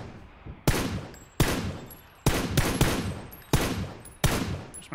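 PUBG gunfire on console, a sequence of sharp, loud single shots spaced irregularly about a second apart, each with a clear decaying tail and a couple of quick doubled bursts.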